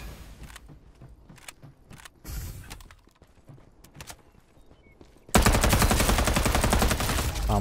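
Gunfire in the battle royale video game Farlight 84 starts with scattered shots, then bursts into a loud, dense stream of rapid automatic fire.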